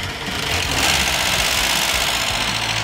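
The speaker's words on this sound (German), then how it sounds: "wenn wir jetzt einfach den Motor starten" A car engine started up during an experiment cutting wires one by one, running with a rough, buzzing idle close to the microphone for a few seconds and no talking over it.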